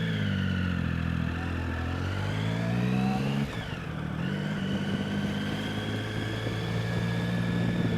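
Motorcycle engine recorded from a mic on the back seat while riding through Tokyo streets, a steady loud drone with shifting harmonic pitch as the rider changes speed and gears, continuous throughout with no talk.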